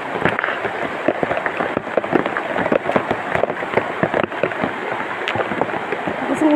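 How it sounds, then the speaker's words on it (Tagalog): Heavy rain pours down in a steady dense hiss with scattered sharp drops striking a surface nearby, loud and continuous throughout. "Lakas ang ulan"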